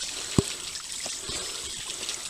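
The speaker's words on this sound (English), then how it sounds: "it's a flowing creek." A flowing creek on a wooded hiking trail, a soft continuous trickle and babble of water, fairly faint and steady, with a small splash near the start.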